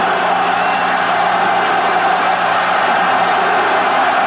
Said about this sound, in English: cheered on by this huge crowd